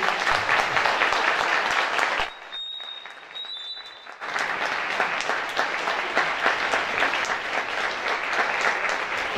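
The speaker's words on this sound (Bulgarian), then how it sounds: "Аплодисменти." Concert audience at a spring folk ensemble concert in Shumen, Bulgaria, applauds in a thick, sustained roar of clapping that dips briefly to near quiet midway and then swells again.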